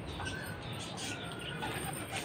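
Pigeons flutter their wings nearby, with soft cooing and faint chirps mixed into a busy outdoor background.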